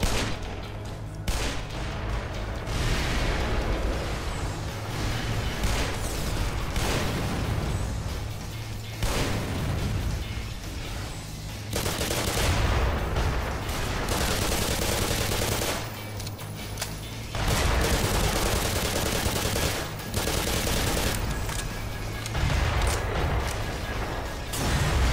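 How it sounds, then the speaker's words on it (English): Artillery mortar fire in the video game Black Mesa: dense, loud bursts of explosive fire and rapid shots that roll on in long stretches, broken by brief quieter gaps, with no voices. "you can't stay on the surface for very long because there's artillery mortar fire."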